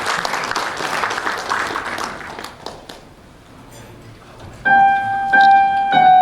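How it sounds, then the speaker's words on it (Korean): A breakfast seminar audience gives warm applause welcoming a university professor about to sing O Sole Mio: lively clapping from a crowd that thins and fades out, followed by sustained musical tones entering. "여러분 뜨거운 박수로 모시겠습니다"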